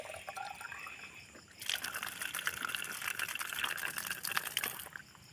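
Water pours into gallon containers outdoors, a faint trickle that turns into a steadier, brighter splashing flow partway through and keeps going to the end, with no voices.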